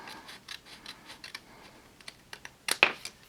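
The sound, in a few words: precision scissors trimming paper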